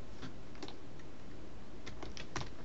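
Keystrokes on a computer keyboard typing a chat command in Minecraft, a few quiet scattered clicks in short bursts, faint and close with no talk.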